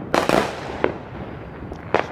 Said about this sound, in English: So I'm just watching fireworks in my backyard right now.